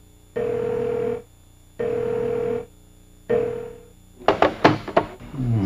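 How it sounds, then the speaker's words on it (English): A telephone rings in three loud, evenly spaced electronic bursts, each about a second long. A clatter of knocks and thumps follows. "no one heard the phone ringing"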